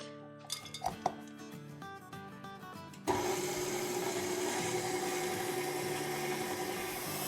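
Melted unsalted butter is whisked in a bowl for cake batter, first with light clinks of the whisk against the bowl, then a sudden steady, louder whirring whisking that continues to the end.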